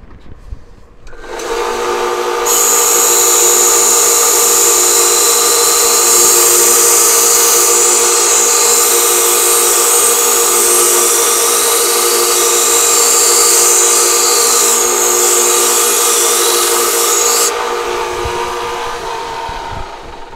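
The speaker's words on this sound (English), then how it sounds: "I'm going to take and just sand this down a little bit so I have less edge there." A small knife handle earring piece is sanded down at the edge on a power sander, a loud continuous whirring hiss that starts up, holds steady for most of the stretch, then winds down.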